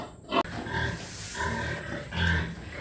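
Pigs grunt at feeding time in a backyard pen after being given scoops of feed, with a few close, low, rough grunts that rise and fall over shuffling and clatter.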